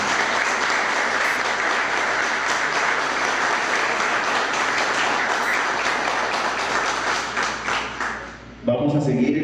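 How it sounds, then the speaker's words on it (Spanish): Loud audience applause at a governor's public event honoring a school, a thick sustained roar of clapping that fades near the end as a voice takes over. "Un aplauso fuerte, Camila."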